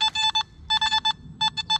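A Nokta Makro Simplex metal detector in sandy, damp forest soil gives a strong signal: three quick groups of bright, clipped electronic beeps, clear and close with no talk.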